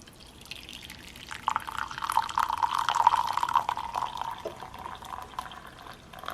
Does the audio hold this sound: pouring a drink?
yes